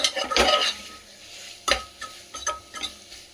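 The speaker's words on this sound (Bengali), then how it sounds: "কষিয়ে নিতে হবে যতক্ষণ না এই মাংসটা থেকে একটা তেল ছেড়ে যাচ্ছে" Chicken keema being stirred and sautéed in a pan, a few scraping strokes of a utensil against the metal, irregular and close, over a low sizzle.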